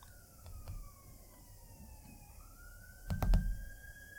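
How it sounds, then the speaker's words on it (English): A siren wails faintly in the distance, its tone slowly rising and falling, with a brief louder knock of nearby noise near the end. "Siren in the background. Wait for that to go."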